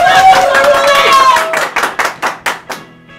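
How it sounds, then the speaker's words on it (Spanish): A small group claps on a countdown cue on a behind-the-scenes set, starting with a burst of voices and then a few distinct loud, separate claps that thin out toward the end. "Marca para aplaudir."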